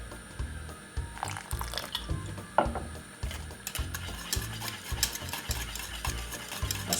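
A spoon works through cornmeal porridge in a pot, making quiet, rhythmic stirring strokes with soft wet clicks and drips between them.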